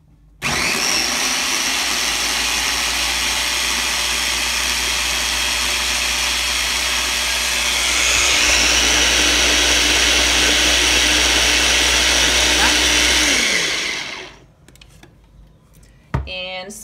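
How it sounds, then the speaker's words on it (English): A kitchen blender whirs loudly and steadily through dandelion ingredients for about thirteen seconds, the pitch shifting partway as the load changes, then winds down and stops. "So turn your blender on and blend everything together."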